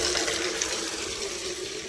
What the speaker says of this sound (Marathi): मी इथं पाणी भरावं लागलं